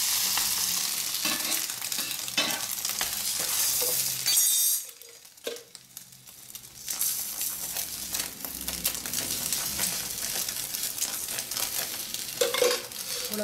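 An egg paratha frying in ghee on a pan over low gas gives a steady, bright sizzle with scraping and stirring, a short lull in the middle, then the hiss resumes, close and continuous.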